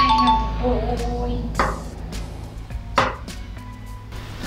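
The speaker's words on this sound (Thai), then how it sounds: "เรามาหั่นแห้วกันก่อน" Water chestnuts sliced with a knife for a Thai crisp red ruby dessert, giving a few sharp, close chopping knocks against a board at about 1.7 and 3 seconds amid kitchen clatter and faint ringing tones.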